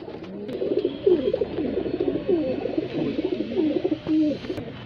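Babra highflyer pigeons, a local breed from Bareilly, coo continuously in overlapping low, rolling calls from a flock close by, with no talking.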